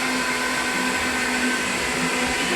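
A blender whirs steadily as it blends cashews into a thick mixture, producing a loud, continuous motor drone throughout with no voices.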